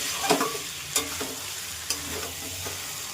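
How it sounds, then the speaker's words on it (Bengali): Mutton kasha stir-fried in a pan, with soft oily sizzling throughout and a few distinct scrapes and clacks of the spatula against the pan, close and fairly quiet, no voices. "এটা আরেকটু সময় এটা কষাবো, এটা সুন্দর করে কষিয়ে নেব"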